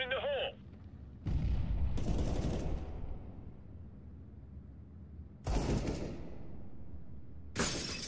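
A grenade detonates in the Counter-Strike: Global Offensive video game as a loud, close blast that rumbles on. Two more sharp bursts follow later, with faint in-game radio-style voice heard near the start.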